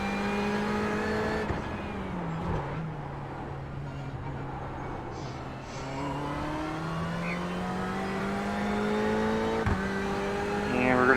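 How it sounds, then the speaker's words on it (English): Ferrari 488 GTE race car engine in a racing sim at Sebring, a steady loud exhaust drone that rises and falls through gear changes, with brief revving dips and a climbing pitch near the end. "We're in the Ferrari 488 today."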